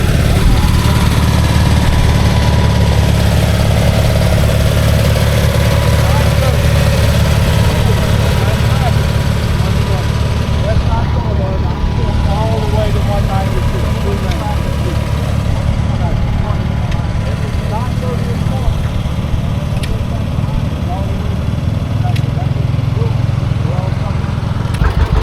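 A John Deere 435 diesel tractor idles at an antique agricultural show, its engine rumbling low and steady throughout while someone talks over it.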